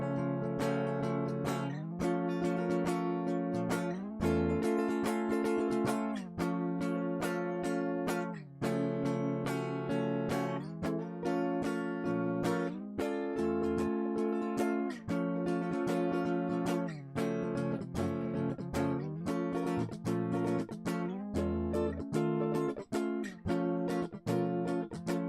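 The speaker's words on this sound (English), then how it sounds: "Right into the bottom 4 string chords, or the rhythm chords sound like this right here." An electric guitar strums rhythm chords on its bottom four strings in a steady, driving pattern, each chord sharply attacked and ringing close and loud, shifting position every few seconds for about twenty-five seconds.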